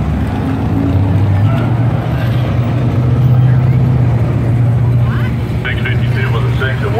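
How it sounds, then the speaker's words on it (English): A Chevrolet Camaro races a Bel Air at a drag strip during a Super Chevy car show in Memphis. A loud, sustained engine roar carries through the whole clip, with a commentator talking over it. "And the Camaro gets away quick."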